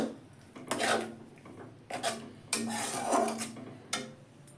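Vegetables sautéing in oil in a pan over low gas, with repeated scraping and stirring strokes against the metal and a soft sizzle underneath, close and moderately loud.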